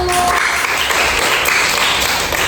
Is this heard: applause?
yes